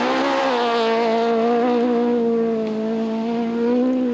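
A Citroën rally car races flat out along a special stage at the 2002 Bianchi rally, its engine a loud, steady high-pitched wail with sustained harmonics and no talk.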